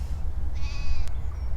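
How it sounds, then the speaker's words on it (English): A baby lamb on a Sussex lane in spring gives one short, clear bleat at moderate distance over steady wind rumble, with no talk. "How cute are these little lambs down here? Hello baby lamb."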